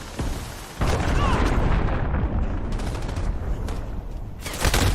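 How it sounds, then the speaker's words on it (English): In a video game, a cruise missile strike sets off heavy, loud booming blasts with rumbling fusillade-like bursts that persist for several seconds, under frantic shouting. "Enemy cruise missile incoming."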